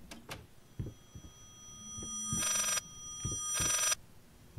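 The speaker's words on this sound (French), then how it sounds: "What, un téléphone." A telephone rings twice inside a mansion in a horror video game, each bright electronic burst lasting about a second, with short soft footsteps or knocks between the rings and no talk.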